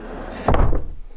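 A door pulled shut from inside while exploring a supposedly haunted building, giving one close, heavy wooden thud with a short resonant tail and no voices.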